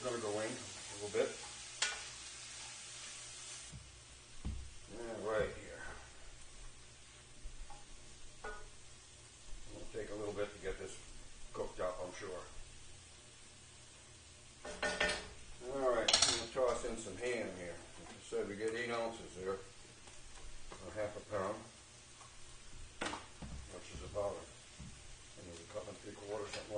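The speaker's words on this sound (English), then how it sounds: "I'm going to see about cooking this up a little bit. Throw those carrots in there." Carrots stir-fry in a hot pan for ham fried rice, giving a steady sizzle and occasional stirring scrapes while a person talks over it throughout.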